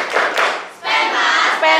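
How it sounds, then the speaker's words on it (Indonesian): A school class in Cilegon claps together in a rhythmic spirit clap, with loud, dense bursts of hands filling the room and voices mixed into the clapping. "Bisa tepuk semangat dulu?"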